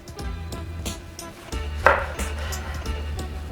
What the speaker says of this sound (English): So I'm gonna just slice now.